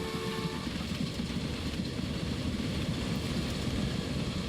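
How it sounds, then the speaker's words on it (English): A passenger train departs in Transport Fever, a continuous low rumbling drone that stays steady and fairly muffled for several seconds. "There goes our passenger train."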